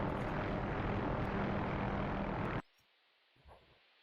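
A loud, close AH-6J helicopter in a video game roars steadily, then the rotor and engine noise cuts off abruptly, leaving near silence broken by a faint thump.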